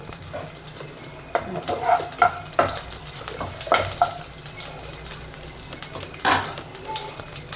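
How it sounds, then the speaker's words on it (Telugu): Dried red chillies dropped into hot oil for a potato curry sizzle and crackle in the pan, a steady fry broken by sharper bursts and stirring clatter, close and fairly loud with no talk. "కొద్దిగా కొద్దిగా వేడైనాక ఎండుమిరపకాయలు అయితే వేసేసుకుందాము"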